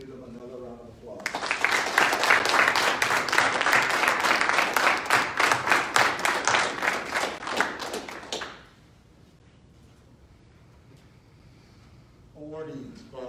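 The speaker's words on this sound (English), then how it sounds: "please give them another round of applause." Applause from a crowd at an Army JROTC military awards ceremony for cadets, a dense burst of clapping lasting several seconds that ends abruptly, followed by quiet room tone and brief talk at the start and end.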